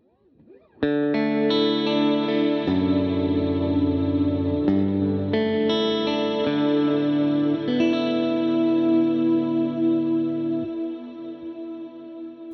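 Electric guitar chords ring out through a Strymon Big Sky reverb pedal with lush reverb and chorus, each change sustaining long and rich before slowly decaying at the end.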